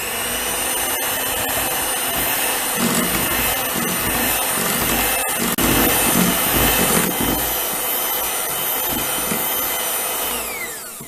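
An electric hand mixer runs steadily and loudly at close range, whirring through cake batter with two large room-temperature eggs for a dark chocolate cake, with no pauses and no talk.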